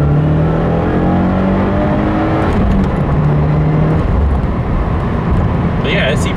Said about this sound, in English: the 1, 2, 3 punch through the gear is pretty smooth